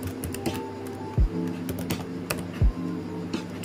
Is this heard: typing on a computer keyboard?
yes